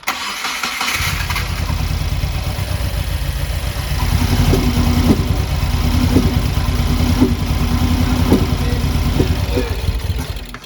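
A Subaru FA20DIT engine cranks after a short quiet moment, then catches and runs loud and rough, with steady low rumbling and sharp periodic pops like intake backfires.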